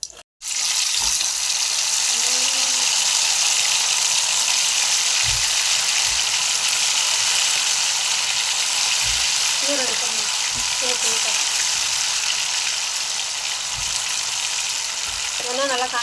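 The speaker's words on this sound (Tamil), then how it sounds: "எண்ணெய் நல்லா காஞ்சிட்டு இருக்குதுல்ல." Oil heating and sizzling in a pan while chicken 65 is fried, a steady close hiss that runs the whole time after a brief knock at the start, with faint voices and small clinks now and then.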